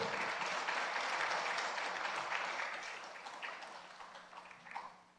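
Church congregation clapping during a plaque presentation at a deaconess installation ceremony, a fairly soft, sparse applause that fades out gradually toward the end.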